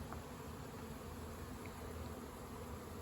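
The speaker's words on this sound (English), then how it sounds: "There's a bee that landed on the camera." A bee hovers near the camera, its faint, steady buzz holding unbroken over a constant outdoor background, with no one speaking.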